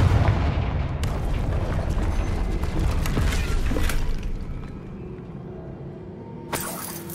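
Confringo blasting spell detonating in Hogwarts Legacy: a loud, rumbling explosion with crashing debris that roars for several seconds, fades into a low hum, then a sharp crack near the end.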